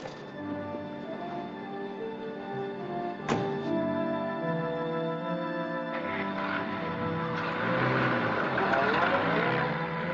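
Car engine revving and pulling away in a 1940s serial scene, a steady close motor drone with a sharp knock partway through and rising, swelling engine noise toward the end.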